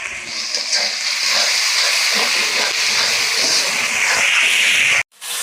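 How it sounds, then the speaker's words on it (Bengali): Potatoes sautéing with spices in a pan give off a loud, steady sizzling hiss that runs unbroken for about five seconds, then cuts out abruptly just before the end. "এখন এই যে আমি আলুটা কষাই নিচ্ছি।"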